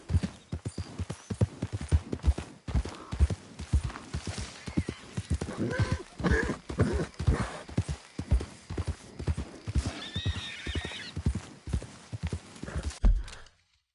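Horse hooves clip-clop in a fast, steady gallop in the video game Red Dead Redemption 2, loud and close, with a whinny rising partway through.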